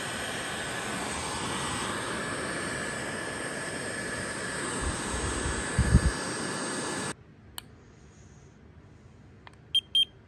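A Losi nitro RC truggy engine runs lean during break-in on a bench table, giving a loud, steady, high buzzing roar for about seven seconds before cutting off, followed by quiet handling clicks.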